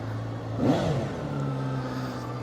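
A ZXMOTO 500F inline-four motorcycle engine idles steadily up close, with one sharp blip of revs partway through before it settles back to a smooth, even hum.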